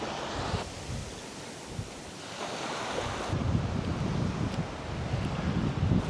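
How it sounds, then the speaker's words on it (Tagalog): Waves lap at a beach shore in the Dominican Republic, a continuous wash of surf with soft swells of hiss, overlaid by buffeting wind on the microphone that grows rougher in the second half. "Yung pagaspas ng alon sa dalampasigan."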